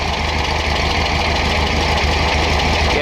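A 1969 VW Baja's air-cooled engine idles steadily, a loud, continuous low rumble with an even mechanical drone, close up and with no talking.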